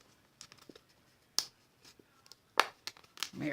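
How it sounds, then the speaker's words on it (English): Paper is torn by hand during card making, giving a few short crisp rips and rustles separated by pauses. The sounds are close and moderately loud, with no voice. "I'm gonna rip my paper."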